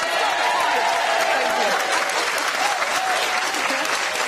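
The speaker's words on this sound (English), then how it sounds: "Don't stop clapping." Studio audience on a daytime talk show applauding actress Emma Thompson, sustained loud clapping with some crowd noise and a faint voice running underneath.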